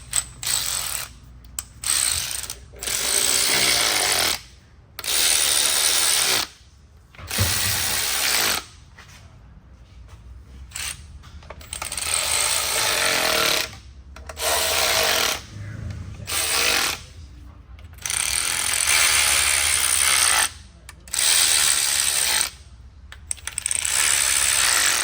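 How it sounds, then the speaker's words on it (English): Ratchet clicks in quick repeated bursts as a Torx 40 bit snugs the plastic transmission pan bolts on a 2016 BMW X5 3.0 turbo's ZF 8-speed, with short pauses between runs, close and fairly loud. "So now I'll just run through and snug the rest of these guys up real quick with the Torx 40."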